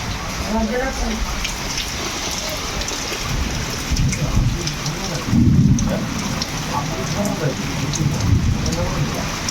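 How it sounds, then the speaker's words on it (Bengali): A heavy thunderstorm pours dense rain down outside a house, with a loud rumble of thunder rolling through the middle of the steady downpour while a person talks nearby. "বাইরে শুধু বৃষ্টি হচ্ছে দেখো আর বাজ পড়ছে কত জোরে জোরে"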